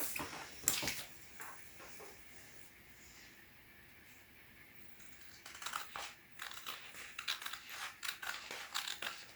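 Scissors cut through pyjama fabric up close, giving quiet crisp snips and rustles of cloth, with a denser run of snipping toward the end.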